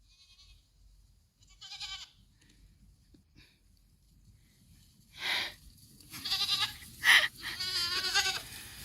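Several goats bleat in a snowy farm setting, starting with a faint distant call and building to loud, close, wavering bleats near the end, with quiet stretches in between.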